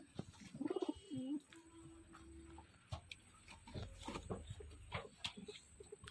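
Pigeons kept for sale coo in a few soft, rolling calls near the start, followed by scattered light ticks and rustles in a quiet outdoor setting.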